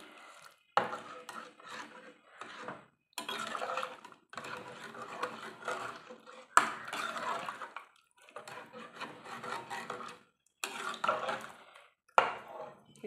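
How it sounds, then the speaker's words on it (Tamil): Vegetable biryani ingredients are stirred and mixed in a pot, with repeated scraping, clattering bursts separated by short pauses, close by and without talk. "இதெல்லாம் போட்டு நல்லா மிக்ஸ் பண்ணி விட்டுப்போம்."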